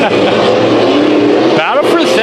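Dirt-track race cars roar through a heat race at Bakersfield Speedway, engines loud and droning as they charge into a corner, with an announcer calling the action over the noise.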